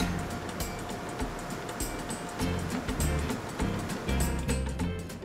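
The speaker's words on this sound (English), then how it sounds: "that is one big engine" A ferry's big diesel engine runs below deck, a steady low rumbling drone with rhythmic pulsing, loud and close, with water churning and no talk.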